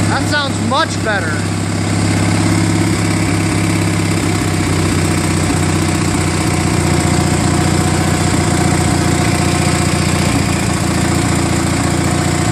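Murray Ultra garden tractor with an opposed-twin engine, freshly fitted with new spark plugs, running steadily and loud close by with a deep even hum; a voice speaks briefly near the start.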